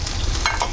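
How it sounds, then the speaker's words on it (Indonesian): Mushrooms frying in a hot pan for a vegetarian dish in a home kitchen, a steady close sizzle with a couple of brief louder crackles. "Ini mau goreng ini dulu. Semua barang masak. Ini semua mushroom."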